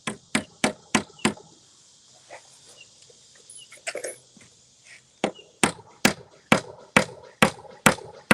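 A hammer driving a nail into a load-bearing wall, loud close strikes in quick rhythmic runs, a quieter pause with faint knocks in between, then another steady series of blows.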